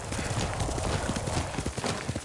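Steady clip-clop of horse hooves in Ghost of Tsushima, dense rhythmic thuds close and continuous with no voices.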